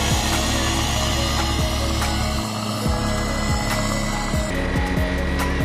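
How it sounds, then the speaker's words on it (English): A Quad City Challenger light aircraft sits on the ramp for its engine run-up, its propeller engine droning loud, steady and close throughout, with the pitch shifting slightly as the throttle changes. "Here, we're doing the run-up out on the ramp."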